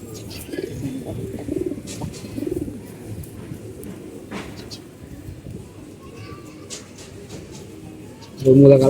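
Pet pigeons at a home loft, a breeding pair with a hen, coo in soft, repeated throaty bursts, close by, over a low murmur of background noise before a louder sound at the end.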